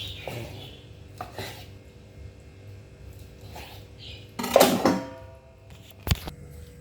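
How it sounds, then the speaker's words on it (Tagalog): Pork belly cut with a knife on a cutting board, a few soft slicing strokes followed by a louder burst of cutting and one sharp knock of the blade on the board, close and unhurried. "Ihiwain na natin ang ating belly."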